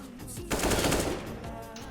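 Gunfire in the video game Counter-Strike, a short burst of rapid automatic shots cracking loudly in the middle of a brief moment, with no talk.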